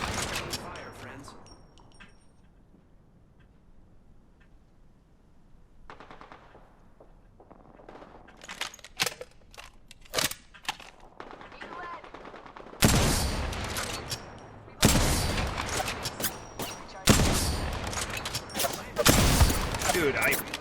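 Video game gunfire crackles in sparse bursts at first, then heavy automatic volleys and blasts pile up in the second half, loud and close, with a player's voice reacting underneath.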